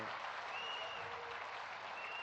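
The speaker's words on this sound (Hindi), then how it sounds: "हम तालियों की गड़गड़ाहट कर रहे हैं" A large audience applauds in honour of Yogi Adityanath at a gathering at Swarved Mahamandir in Varanasi: steady, dense clapping that stays faint and distant throughout, with a thin high tone drifting above it.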